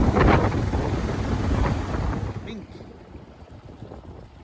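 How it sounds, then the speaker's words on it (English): Strong wind buffets the microphone in a low, roaring rumble, easing somewhat in the final seconds. "Windy today."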